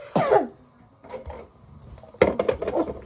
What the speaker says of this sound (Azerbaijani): Niye öskürürsən sən?